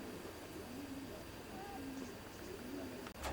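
Racing pigeons coo softly inside the old-bird section of a closed-in loft with nest boxes, low rounded calls recurring faintly over a steady background hiss, with no one speaking.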